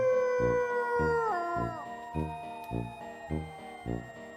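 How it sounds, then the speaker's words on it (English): Wolves howl as a family pack: one long, loud howl slides downward in pitch at the start, then gives way to steady rhythmic background music. "They work together in family packs and communicate by howling."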